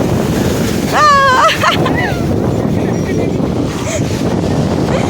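Sea waves break and churn close by on a beach at Visakhapatnam, with a blustery wind across the microphone, while people shout and talk over the water.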